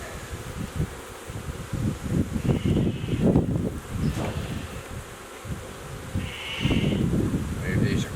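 Honeybees buzz around an opened hive with drawn queen cells, a close, steady drone with some rising and fading swells, and quiet voices and handling noises mixed in.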